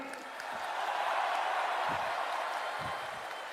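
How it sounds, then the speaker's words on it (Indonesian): Continuous applause from a large crowd at a Gerindra party anniversary event in Indonesia, a broad wash of clapping that swells and holds steady at moderate volume. "Tepuk tangannya kurang semangat."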